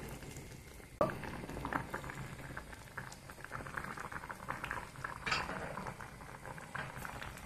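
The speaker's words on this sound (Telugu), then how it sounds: "ఇంకొక 5 నిమిషాలు ఉడికిద్దాము" Vegetable gravy simmers in a pot with continuous close bubbling and popping, plus a few faint utensil clinks, and no voices.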